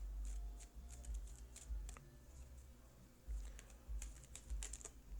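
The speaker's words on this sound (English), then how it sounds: "getting to a nice quiet place as I shuffle your cards" Quiet crisp flicks and soft riffles of tarot cards being shuffled by hand, close by, in irregular bursts over a low steady hum.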